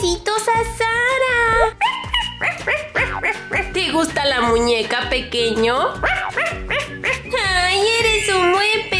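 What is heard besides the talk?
dog barking and whimpering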